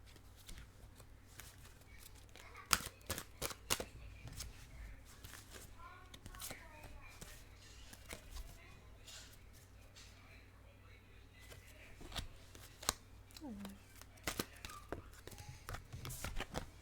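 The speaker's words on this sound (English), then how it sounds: "please be patient while I just shuffle and lay out your cards." Tarot cards shuffled by hand, a run of soft, irregular flicks and taps spread across the stretch, close but quiet over a low steady hum.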